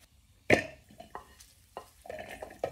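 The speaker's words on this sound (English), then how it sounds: "we mix in the pancetta into the pan so it can soak up all the wonderful fat" Pancetta stirred in a pan of olive oil, giving a few sharp scraping and clinking strokes with a soft sizzle between them, close by and fairly quiet.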